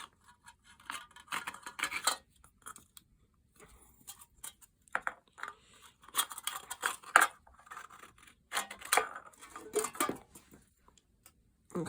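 A knife cuts gently through folded material, producing quiet, scratchy scraping strokes in short bursts separated by brief pauses, close by and with no talking.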